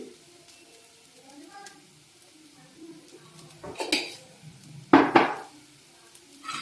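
Egg fried rice is stirred in a pan, with quiet clinks and then two loud scraping clatters of a spoon against metal, under a speaking voice.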